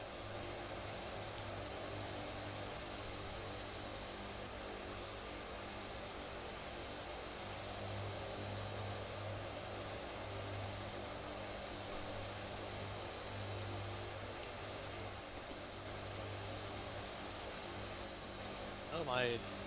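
A C-130 Hercules turboprop drones continuously in cruise flight in a simulator game, a steady even engine roar with a constant low hum and no break.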